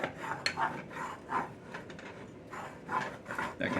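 Dark roux being stirred in a pot, rhythmic rasping strokes of the utensil scraping the bottom, repeated steadily and close.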